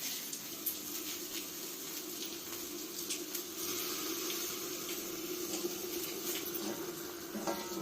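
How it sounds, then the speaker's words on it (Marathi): Hot water pours steadily into a cooking pot of mutton curry in a home kitchen, a continuous splashing rush that stays at an even level throughout with no talking. "आपली गरम पाणी त्याच्यात ओतून घ्यायचं."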